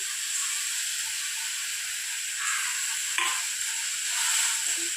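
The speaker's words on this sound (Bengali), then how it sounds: "এটা নেড়ে চেড়ে ভেজে নেব।" Mustard paste and spices sizzling in hot frying oil alongside fish, a steady close hiss with a few brief scraping stirs of a utensil, no talking over it.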